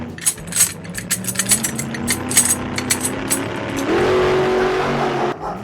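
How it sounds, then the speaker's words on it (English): An old, rattly yellow car engine turns over and pulls away, with clattery mechanical noise and rising engine tone as it drives off, fairly close and without talk. "Now the old bloke started his engine and drove off in the old rattly yellow"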